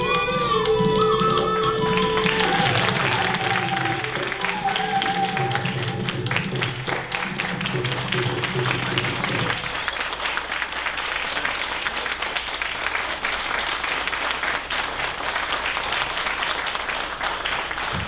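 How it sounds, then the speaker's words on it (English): An audience applauds after a Bharatanatyam arangetram performance, sustained clapping that continues as the closing music fades out. "With a big round of applause"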